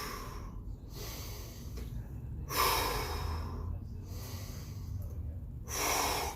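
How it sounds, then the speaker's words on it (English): Heavy, rhythmic breathing during a workout, with repeated forceful snorting exhales and gasping inhales up close, in bursts separated by brief quieter pauses. "Find a rhythm with your breathing."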